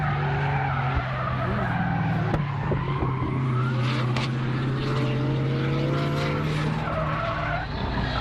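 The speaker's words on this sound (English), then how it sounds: "You can certainly hear the LSX whining away." A loud LSX V8 drift car engine whines and roars at high revs while tires squeal and skid at a Teesside drift event, the sound sustained and fairly close.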